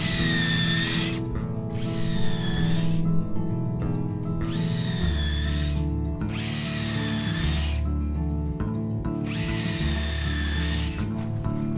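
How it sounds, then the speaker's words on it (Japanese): A power drill bores pilot holes into hinoki cypress deck boards: five loud whining bursts of a second or two each, separated by short pauses, over a steady low mechanical hum. "ギリギリ釘が通らない程度の穴を開けます。"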